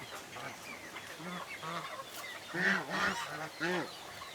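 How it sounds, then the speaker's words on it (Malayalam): Several loud honks from a black goose ring out in bursts, nasal and harsh, with other fowl calling in the background. "ഇത് ഗൂസാണ്. അത് ഗൂസിൻ്റെ ബ്ലാക്ക് ആണെന്നേ ഉള്ളൂ."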